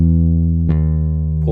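A Scarbee Pre Bass sampled bass plays a half pull-off: a low sustained note shifts with a soft pluck midway to a new pitch, followed by a slight extra attack near the end.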